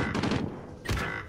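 Sniper gunfire in a jungle-map battle royale video game: a short burst of sharp shots followed by another loud crack, fairly close and without speech.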